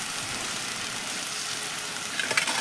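Fish and potatoes frying in a pan with bottle gourd for a Bengali meal, a steady close sizzle and crackle of hot oil with a brief spattering pop near the end.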